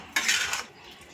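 Small metal spoon scraping and stirring salt into grated carrot halwa in a pan, one brief bright clinking scrape, close and fairly loud, then quiet, no talking.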